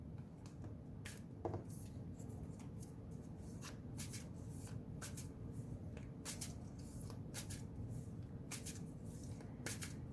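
Tarot cards are shuffled and drawn by hand, soft papery slaps and flicks coming in irregular bursts over a low, faint background, close and quiet.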